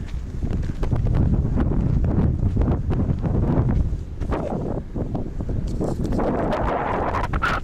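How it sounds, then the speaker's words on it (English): Wind on a mountain trail gap along the Appalachian Trail, a loud, continuous buffeting roar across the microphone that surges and eases without any talking. "And I'm sure you can hear that wind."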